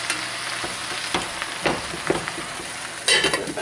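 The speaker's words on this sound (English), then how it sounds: "Give it a little stir. It's starting to wilt down." Spinach wilts in a pan over medium heat while a utensil stirs it, giving a soft frying hiss broken by several scraping strokes and a louder sizzling burst near the end.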